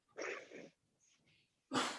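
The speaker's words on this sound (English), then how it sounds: "Sneezing." Someone sneezes while cooking a marinade, a sharp close burst with a breathy follow-through, then faint sniffs and a second loud sneeze-like burst at the end.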